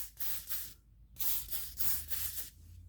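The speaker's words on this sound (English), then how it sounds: "I'm just going to spray these slides right here, just like that" Silicone spray hisses onto toolbox drawer slides in a series of short, close bursts, each a sharp airy spurt with brief gaps between them.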